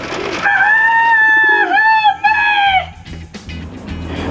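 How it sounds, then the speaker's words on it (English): A bird in the abandoned town of Fayette, where pigeons roost in large numbers, gives a loud, close, drawn-out crowing call of several seconds, followed by rustling and scattered softer calls. "It seems to be populated strictly by huge quantities of pigeons."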